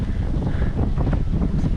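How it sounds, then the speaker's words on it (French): Wind buffets a microphone on a mountain hike at the Nez de l'Indien in Quebec's Laurentians, a steady, close, low roaring rush with no voices. "Couvre le vent."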